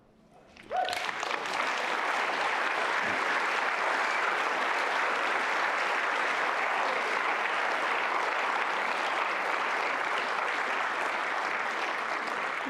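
An audience applauds at the end of a talk at Groundswell, a sudden burst of clapping from a large crowd that holds steady and full for over ten seconds, with no speech over it.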